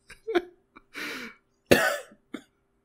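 A person gives a few short, close coughs, with brief pauses between them.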